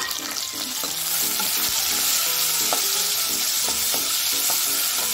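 Tomatoes and green chilies sizzle and fry in a pan for a potato masala rice, a continuous crackling hiss with stirring clinks and scrapes rising over it at a close, moderate level.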